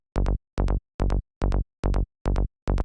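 Seven evenly spaced, plucky psytrance bass notes play through a 24 dB filter shape, each with a bright attack that quickly closes down. The synth is loud and isolated, with no talking.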